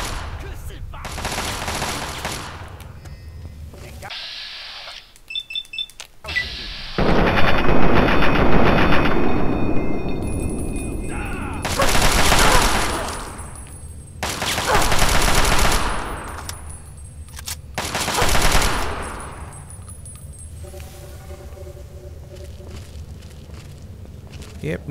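Gunfire in the video game Fallout 3, with several loud bursts of rapid shots separated by quieter stretches and a player talking in between.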